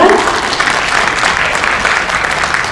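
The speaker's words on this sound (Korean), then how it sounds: "함께해 주신 8분께 한 번 더 큰 박수를 부탁드리겠습니다" Loud, dense audience applause fills a Korean policy roundtable on a tattoo practitioner law, continuous clapping for the panelists with a brief voice at the very start.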